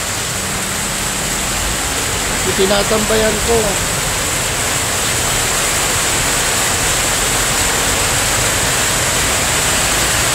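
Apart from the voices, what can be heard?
rain falling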